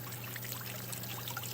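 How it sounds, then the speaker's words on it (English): A ram pump's waste valve dumps water outdoors in a steady, continuous gushing trickle, close and fairly soft, with a low hum underneath and no talk. "The waste valve, is now dumping water,"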